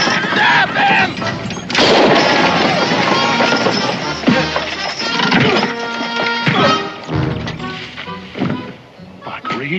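A sharp gunshot cracks out in a 1969 Daniel Boone western TV drama, loud and close, amid a busy soundtrack of voices, movement and rustling that carries on around it.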